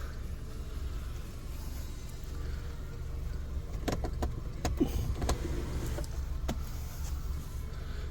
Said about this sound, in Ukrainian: Люк працює.